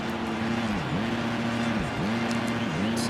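Dirt bike engine in the Monster Energy Supercross 3 video game, dropping off throttle with a steady drone that dips and recovers in repeated falls, close and continuous with faint talk.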